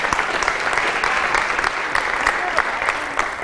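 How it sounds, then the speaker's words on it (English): An audience at a high school girls' signing day gives a big round of applause for a state championship coach, steady close clapping throughout with a few sharp individual claps standing out. "Give him a big round of applause."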